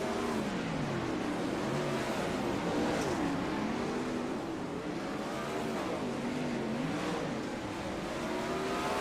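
Non-wing 410 sprint cars race on the Fairbury dirt track, engines roaring loud and continuous with rising and falling pitch as they power down the front stretch, a dense close-up drone throughout.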